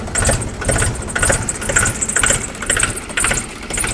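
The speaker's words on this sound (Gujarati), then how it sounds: "તો ટ્રેક્ટરને સ્ટાર્ટ કરી દઈએ." A Mahindra 275 tractor engine starts from cold and settles into a loud, close, rhythmic diesel chugging with regular thumping pulses.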